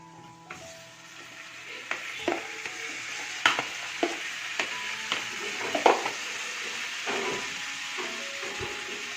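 Chicken curry frying in a pan over medium-high flame, with a steady sizzle under repeated scraping and clinking strokes of a spoon stirring through it.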